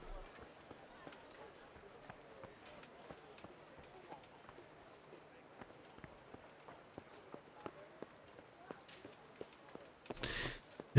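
Quiet, steady clip-clop of horse hooves walking in the video game Kingdom Come: Deliverance, light and regular, with a brief louder rustle near the end.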